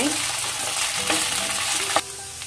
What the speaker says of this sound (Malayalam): അതിലേക്ക് നമുക്ക് ഈ വെണ്ട കൊടുക്കാം ഇനി നമുക്കിതൊന്ന് വഴക്കി കൊടുക്കാം